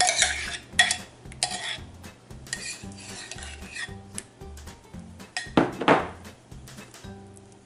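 A utensil scrapes and clinks against a cabbage casserole dish in short bursts as topping is spread, close and fairly loud over quiet background music.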